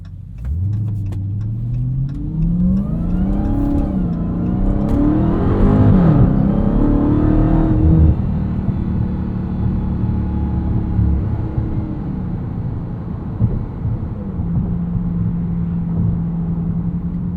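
A supercharged 807-horsepower 2023 Dodge Charger Hellcat Widebody Jailbreak with an 8-speed gearbox revs hard through rising engine sweeps, shifts up, then settles into a loud, steady drone heard from inside the car.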